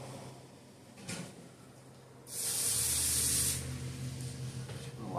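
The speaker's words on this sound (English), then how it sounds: "we're going to spray some WD-40" WD-40 sprayed from an aerosol can onto a white towel during piston installation work, one steady hiss of about a second, close and fairly loud, after a faint handling knock.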